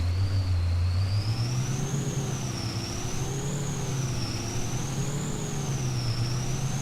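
A service truck drives in Farming Simulator 22, its engine holding a steady low drone with a wavering high whine on top that rises and falls gently, continuous and close with no talk.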